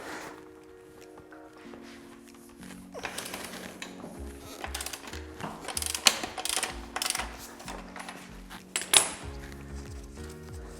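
Metal clicks and clanks from a ratchet working loose the swingarm axle nut on a motorcycle rear wheel, with bursts of rapid ratcheting and sharp tool knocks close by, no voices.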